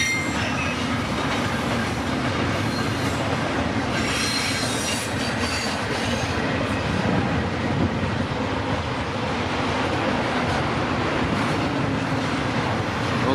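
A freight train of box cars rolling past on a windy day, a steady loud rumble with rhythmic wheel clatter and occasional squeal.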